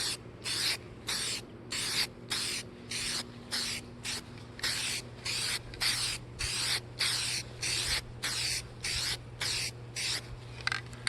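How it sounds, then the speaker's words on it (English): Guide coat is sprayed from an aerosol can onto the primed hood of a MK1 Scirocco, in about twenty short, evenly spaced hissing bursts, close and fairly loud over a low background hum. "putting some guide coat on"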